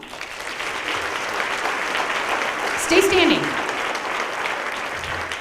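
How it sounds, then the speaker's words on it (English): An audience at a salute to women truck drivers applauds new female drivers who have stood up, with steady, dense clapping filling the room throughout and a voice speaking briefly over it. "give them a round of applause"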